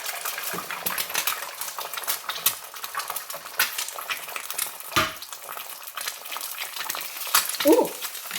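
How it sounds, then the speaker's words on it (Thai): Minced and sliced pork stir-fried with holy basil, a steady crackling sizzle in the wok with a spatula scraping and clinking against the metal throughout, close and fairly busy. "เดี๋ยวผัดกะเพรานะคะ"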